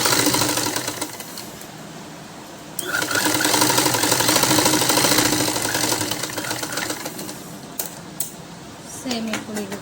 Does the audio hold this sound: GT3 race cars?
no